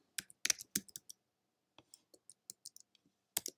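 Computer keyboard keys click faintly in short irregular bursts as a math expression is typed, with quiet pauses between the keystrokes.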